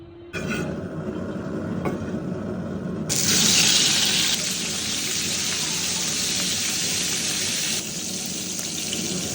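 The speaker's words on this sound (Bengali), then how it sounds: "তরকারিটা ধোয়া শেষ হয়ে গেছে মাছটা ধুইলাম" Fish being washed under running tap water in a kitchen sink, a loud continuous splashing gush that swells and shifts as the fish is handled under the stream.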